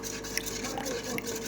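Hot water poured into a bowl of gelatine gives a steady liquid splash and trickle, close and moderately quiet, with a few brief drips.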